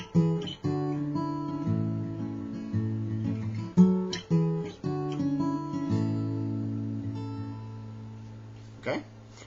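Acoustic guitar playing the verse of a song, strummed chords with bass notes ringing out in a steady rhythm, close and clear, with no talking over it.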